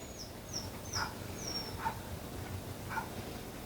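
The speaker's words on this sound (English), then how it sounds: "You don't need to bark or whine just because the dog outside is barking" A dog whines and gives soft yips indoors, a few thin high cries spaced over steady background noise, faint and somewhat distant.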